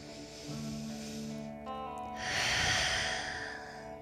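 A slow, audible breath in a yoga class, a long nasal inhale followed by a louder, airy exhale, close and alone.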